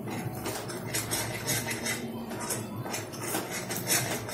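Garam masala and dry spices being stirred in a pan for anda curry, a steady scraping and light clinking of a spoon against metal at close range throughout, with no talk.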